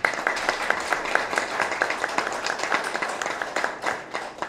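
A room full of people claps steadily at a civic meeting in Sosúa, a dense patter of applause that fades slightly toward the end.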